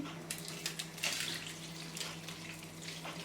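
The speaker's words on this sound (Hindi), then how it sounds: "और बीच में ऐड करेंगे पानी।" Water pours into a cooking pan with Maggi noodles and their spice sachet, a soft, steady splashing trickle with faint fluctuations, fairly quiet and alone.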